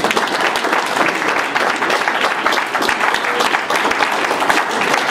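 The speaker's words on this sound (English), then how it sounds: "I want a quick round of applause for all the candidates here" An audience at a candidate forum applauds the candidates, a dense, sustained burst of clapping from many hands, loud and close, filling the whole moment.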